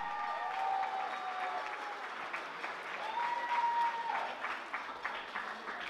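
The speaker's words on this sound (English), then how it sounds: "let's give a round of applause to the bride and groom, please" Wedding guests at a country club reception applaud the bride and groom, a sustained, even roar of clapping with a faint tonal hum running beneath it.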